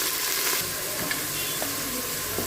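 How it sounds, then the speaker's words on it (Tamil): Chicken with ginger garlic paste sautés in a pan for a Ramnad-style chicken kulambu, producing a dense, loud, continuous sizzle with faint stirring scrapes, and no talking. "இஞ்சி பூண்டு பேஸ்ட் போடுறோம், சிக்கன் போடுறோம், சிக்கன் கொஞ்சம் நேரம் வதங்கட்டும்."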